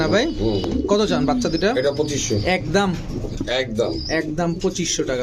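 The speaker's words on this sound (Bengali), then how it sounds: "ইসমাইল ভাইয়ের খামারে শুধু অল্প কিছু কবুতর থাকে" Pigeons, including racer, Budapest, Lahori, King, Danish and Beauty breeds, coo repeatedly, close and loud, with many overlapping throaty calls in a continuous chorus at a pigeon farm.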